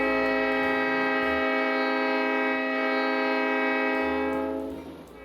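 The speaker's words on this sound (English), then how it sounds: "With the blast of the horn" Train horn sounding on a railroad in rural Indiana, one long sustained chord-like blast, loud and steady, fading at the end.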